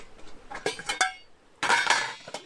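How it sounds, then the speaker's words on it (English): Metal pans and lids from a Drifter camping cook set clink and clatter as they are handled, two bursts of close, bright metallic knocks and rattles separated by a short pause. "So I've got a cook set from Drifter."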